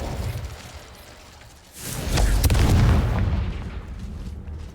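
A Confringo fire-blast spell from Hogwarts Legacy hits with a deep booming burst midway, rumbling and crackling before fading out, preceded by quieter ambient game sound.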